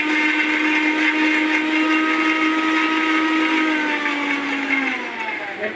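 A Philips blender grinds whole ginger with a loud, steady motor whine for several seconds, and its pitch slides downward near the end as it winds down.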